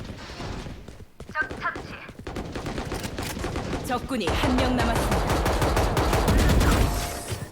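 Rapid gunfire in the video game Valorant, dense bursts of shots building into sustained loud automatic fire, with excited voices talking over the shooting.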